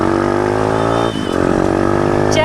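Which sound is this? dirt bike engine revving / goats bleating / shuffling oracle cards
dirt bike engine revving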